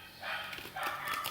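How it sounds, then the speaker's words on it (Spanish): A pet dog barks indoors, giving a few quick yips heard faintly at a distance over steady room noise. "Un momento que se va a poner mi perra a ladrar."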